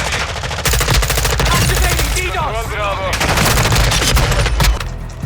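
Rapid automatic gunfire from a multiplayer match of Call of Duty: Modern Warfare II, loud continuous bursts with some game effects layered in and a voice heard briefly.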